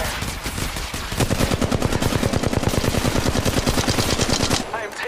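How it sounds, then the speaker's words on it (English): Rapid automatic gunfire in Apex Legends Mobile, a loud, close, sustained burst of evenly spaced shots lasting several seconds before cutting off. "I am taking fire"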